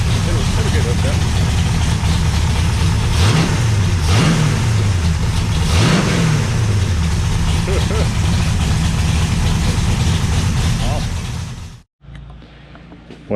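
Pump-gas Mopar 508 stroker big-block V8 on its first start-up runs close and very loud, with a rough lumpy idle and several throttle blips rising and falling before it cuts off abruptly near the end.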